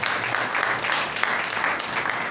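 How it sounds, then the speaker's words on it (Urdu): A church congregation applauds steadily for a few seconds, a dense, loud wash of many clapping hands filling the room with a faint voice mixed in. "زوردار تالیاں خداوند کے لیے دیا."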